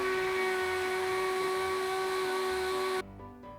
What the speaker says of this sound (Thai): เราก็จะทำการเจาะผนังแล้วก็ใส่พุกนะครับ